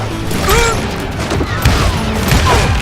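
Scattered gunfire and clanking mechanisms from the Call of Juarez Gunslinger shooter game, busy and close, with voice-like sounds mixed into the fray.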